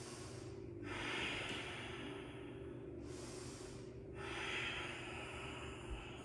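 Slow, deep breaths during a power yoga bridge pose rise and fall in long airy waves, three steady cycles of inhaling and exhaling close and clear over faint room hum.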